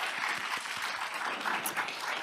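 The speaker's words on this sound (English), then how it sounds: "give yourselves a round of applause" Conference delegates applauding at a fall delegate session, a steady, fairly faint wash of many hands clapping with no voices over it.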